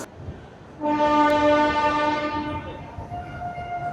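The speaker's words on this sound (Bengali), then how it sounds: "শিয়ালদা থেকে একদম পারফেক্ট টাইমে 7:30 ছেড়ে দিল আমাদের অমৃত ভারত এক্সপ্রেস" An Amrit Bharat Express train horn blares in one long, loud, steady blast lasting about two seconds as it departs Sealdah station, then fades into the low rumble of the moving train.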